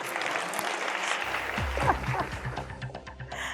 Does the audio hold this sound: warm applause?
yes